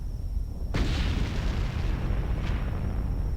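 Explosions in the Star Wars: Knights of the Old Republic video game during a space battle, one sharp loud boom with a rumbling tail and a fainter second blast, no talking.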